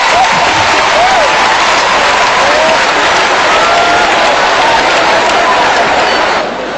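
A comedy show audience applauds and cheers, a dense steady wash of clapping that stays loud and close throughout before easing slightly at the end.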